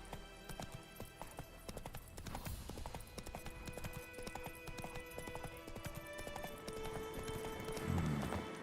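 Hooves of Geralt's horse Roach in The Witcher 3 clip-clop in a steady galloping rhythm, mid-distance, over a game soundtrack and ambient layer, with a brief whinny-like burst near the end.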